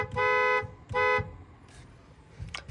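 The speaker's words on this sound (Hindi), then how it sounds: "ये वाला मैंने इसमें डुअल बैरल हॉर्न लगवाया है" Dual barrel horn fitted to a Skoda Kylaq, sounding two loud, sustained blasts of about half a second each, separated by a short gap, close by with faint background noise afterward.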